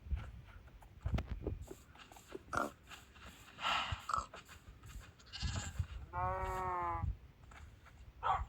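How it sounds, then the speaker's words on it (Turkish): Quiet farmyard sounds in Minecraft with snorts and grunts, then a single drawn-out goat bleat, faint and slightly distant. "Keçilər."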